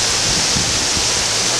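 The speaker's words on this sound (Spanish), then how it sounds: "Así llegamos a la Cascada La Milagrosa" La Milagrosa waterfall roars as a steady, loud wash of rushing water that fills the scene without a break, close by and with no voices.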